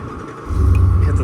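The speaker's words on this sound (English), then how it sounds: "Then to start the engine back up," An engine on CUES splicer lab equipment starts up, going from a faint hum to a sudden deep, steady rumble at close range within about a second.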